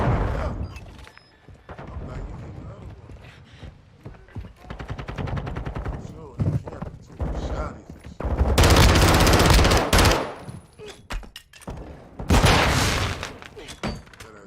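Heavy gunfire in a video game shooter, with rapid automatic bursts and single shots crackling close and loud, swelling into dense volleys between quieter stretches, while voices call out underneath.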